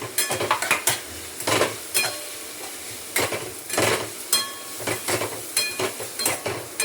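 Chopped coriander, curry leaves, ginger, garlic, cumin and chili sautéing in a pan, with soft sizzling under repeated scraping and stirring strokes of a spoon against metal, close and steady.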